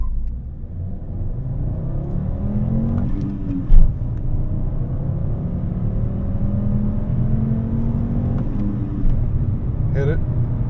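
A 2012 Volkswagen Golf base model with a 2.5-litre five-cylinder engine accelerates gently from a standstill, its engine droning and rising steadily in pitch under a constant cabin rumble, with a person talking over it.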